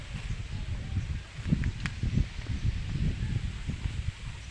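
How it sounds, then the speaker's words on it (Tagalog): Strong wind buffets outdoors near an open fire, a steady low rumbling roar with uneven gusty surges and faint rustling throughout. "malakas hangin eh"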